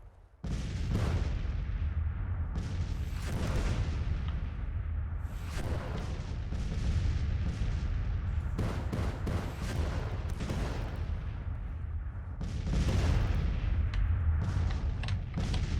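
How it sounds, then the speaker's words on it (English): Cannon artillery fires in the Grand Tactician Civil War strategy game. Heavy booms and rolling volleys repeat in bursts over a continuous rumbling battle din. "guns under heavy fire. 75 losses just from cannons."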